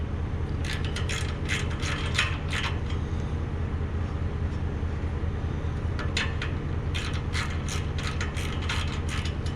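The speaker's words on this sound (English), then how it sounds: "first thing we're going to do is we're going to take off these 3 nuts here" A ratchet wrench backs off 10mm exhaust nuts on a Dodge Charger or Challenger. Two bursts of rapid, close clicking ring out over a steady low hum, with a pause between them and no speech.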